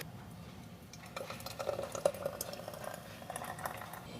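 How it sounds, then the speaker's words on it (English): Peach jam at a rolling boil in a pot on the stove, a soft, steady bubbling and popping that swells after the first second and keeps going, close and moderately quiet. "All right, it is boiling."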